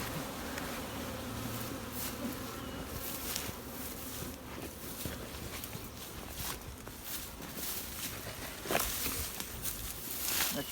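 A swarm of honey bees being caught and boxed hums in a steady, low, close drone, with light rustling and occasional footsteps outdoors around it.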